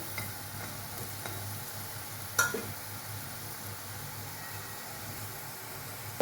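Chana dal fritters frying in hot oil in a kadai for papaya shukto give a steady, even sizzle throughout, with one sharp clatter near the middle.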